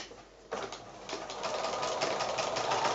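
A sewing machine stitches through regular printer paper for quilt foundation piecing, starting abruptly after a brief quiet moment, then running as a steady, close, rapid mechanical chatter that grows slightly louder.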